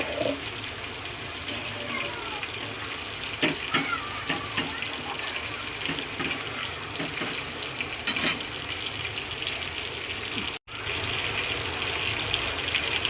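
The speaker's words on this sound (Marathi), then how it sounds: "जरा पाणी ओतायचं आपल्याला" Water poured into a cooking pot, a steady running pour and splash lasting several seconds, close and moderately loud, briefly cutting out near the end.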